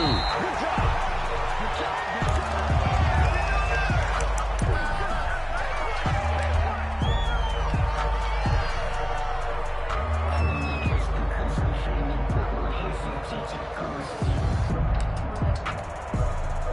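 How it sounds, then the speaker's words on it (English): A stadium crowd in an American football video game keeps up a loud, continuous roar of cheering, with whoops and sharp impact sounds rising out of the steady noise. "This crowd dying for a stop."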